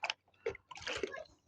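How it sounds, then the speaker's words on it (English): An old glass bottle being rinsed in water, with short bursts of splashing and sloshing separated by brief pauses, close and fairly quiet. "I always do my bottles with the soapy water, and then this one is just a rinse."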